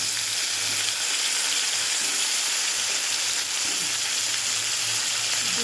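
Chopped tomato sizzling in a frying pan with potatoes, a loud, dense, continuous hiss close by with faint stirring beneath it.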